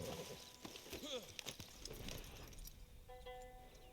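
Rhythmic clip-clop of horse hooves with game-like effects and a brief jingling, fairly quiet, with a short whinny-like sound.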